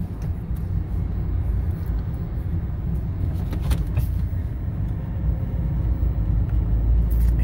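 A rental car drives along an Italian road in Lombardy toward a roundabout, giving a steady, continuous low engine and road rumble from inside the cabin with no talking.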